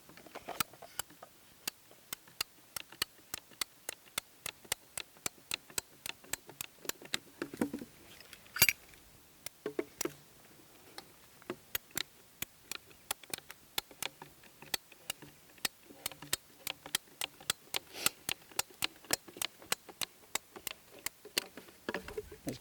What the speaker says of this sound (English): These cutters do a wonderful job. So we're removing the damaged section of pipe.